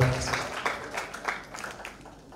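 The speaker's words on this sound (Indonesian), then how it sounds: "Berikan tepuk tangan bagi Tuhan." Brief scattered clapping from a church congregation, a few uneven bursts of hands that quickly thin out.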